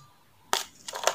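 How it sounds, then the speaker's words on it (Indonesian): Ice cubes drop into a drinking glass for an iced Milo drink, giving a quick crunchy clatter followed by a couple of lighter rattling knocks, close and moderately loud. "tambahkan es batu"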